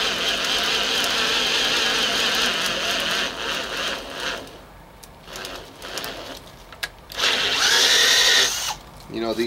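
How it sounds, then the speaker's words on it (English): A Makita cordless drill whines loudly as a self-feeding auger bit bores through wood, bogging and pausing midway before spinning up again. "these auger bits are self-feeding. They have this screw basically that just pulls the bit through"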